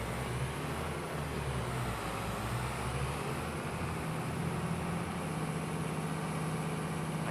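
An old International 1586 tractor hitched to a red grain cart on a Wisconsin dairy farm, its engine running at a steady low idle throughout, a continuous droning rumble with no talk.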